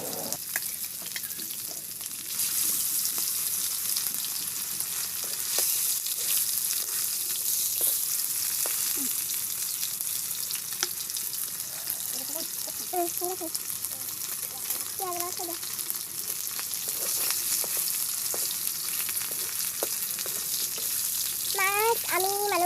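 Fish pieces fry in a pan over a traditional fire-kitchen stove, giving a steady soft sizzle with occasional stirring. A voice talks intermittently over it.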